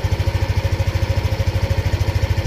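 A motorcycle engine three years old, run on Extreme One racing oil, idles close and steady with an even, rapid low chuffing pulse.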